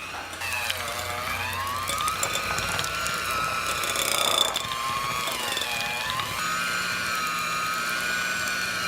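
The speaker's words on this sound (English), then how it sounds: "Okay, so we're almost done with creaming the butter." Stand or hand mixer creaming room-temperature butter for cranberry pistachio shortbread, a steady motor whine with a shifting pitch and a ratcheting, gear-like rattle that runs unbroken and fairly close throughout.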